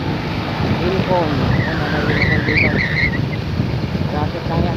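Road traffic rumbles steadily in Sabang with engine noise and wind buffeting the microphone, a vehicle horn or siren-like tone wavering briefly, while someone talks over it.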